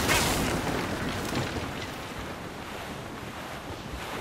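Wind and surging sea water in Assassin's Creed Rogue, a steady broadband rush that is loudest at the start and then holds a constant, close, roaring level with no talk.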